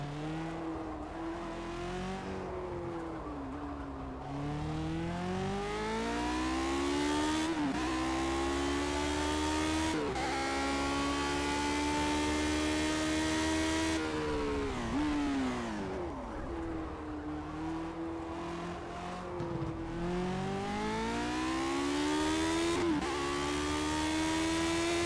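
A car engine in a PC racing game, driven with a five-speed gearbox, revs and climbs repeatedly through the gears with steady rising whines and brief drops at each shift, loud and continuous throughout.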